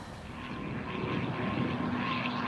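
A traffic spotter plane's engine drones steadily, a faint propeller hum rising slightly in loudness over a couple of seconds with no voices.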